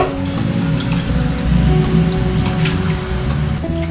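Water pours steadily into a pot of cooked toor dal lentils, a continuous splashing, gurgling stream, close and fairly loud, lasting throughout.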